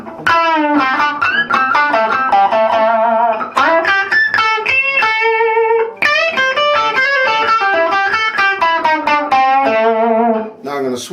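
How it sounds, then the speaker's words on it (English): A Les Paul electric guitar played through a Vox AC15 amp, driven into natural power-amp distortion, rings out loud and alone in a run of sustained chords and melodic phrases with brief pauses between them. "Here's what the PV sounds like with its own natural distortion."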